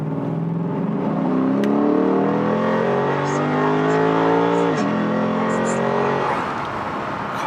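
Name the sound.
Lexus RC F accelerating hard on a pull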